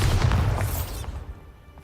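A Bombarda explosion spell from Hogwarts Legacy goes off in one loud booming blast with a crackling burst, then decays into a fading rumble and silence.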